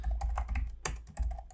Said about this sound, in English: I'm just typing it out for your information.